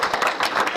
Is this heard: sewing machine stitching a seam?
no